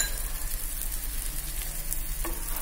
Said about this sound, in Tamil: சோ நம்ம லைட்டா ஃப்ரை பண்ணி எடுத்துக்கலாம் வெளியில இருக்க சப்பாத்தி மட்டும் ஃப்ரை ஆன போதும்